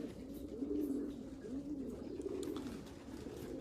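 Racing pigeons in a Dutch pigeon loft coo in soft, rolling low murmurs, several overlapping calls swelling and fading steadily, close by, with no talk.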